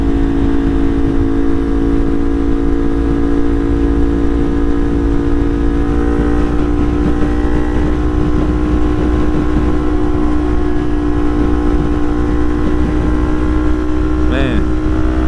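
A motorcycle engine drones steadily at cruising speed, with constant wind rush throughout and a brief higher whine near the end.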